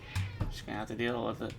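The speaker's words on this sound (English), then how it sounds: "You might hear my cat in the background." A house cat meows a few times in the background while a person talks over it, the short cries rising and falling under the nearer voice.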